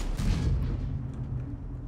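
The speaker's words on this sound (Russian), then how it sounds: "Еще один выстрел выдаем" A tank gun firing in a tank video game with the Leopard PT A: a loud, low boom with a rumbling tail that stays heavy across the whole short clip.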